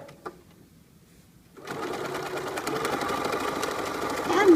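Sewing machine back stitching while sewing French binding on fabric: after a quiet start, a steady, fast mechanical whirr starts up and runs close and continuous to the end, with a voice speaking over it.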